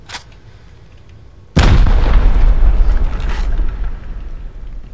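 A rocket explosion during a base raid in the Rust video game: a quiet stretch, then a sudden loud blast that roars and rumbles, slowly tailing off over several seconds.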